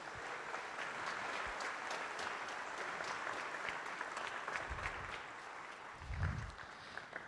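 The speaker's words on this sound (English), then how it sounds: "Please give them a round of applause." Sustained audience applause at a military salute concert held in a church hall, broad dense clapping from a large crowd continuing steadily throughout with no speech over it.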